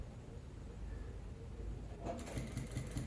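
A quiet sewing machine stitches a polo shirt, a soft low hum at first that turns into a brighter run of rhythmic stitching in the final second, close by.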